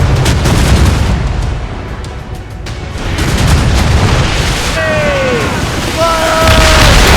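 Ship cannons fire in a naval battle in the video game Assassin's Creed Rogue, with deep booms rolling one after another through a dense battle din while voices shout over the noise.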